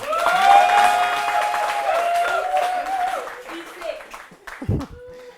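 A comedy show crowd applauds loudly with cheers and whoops mixed in, then the clapping fades out and a voice speaks briefly.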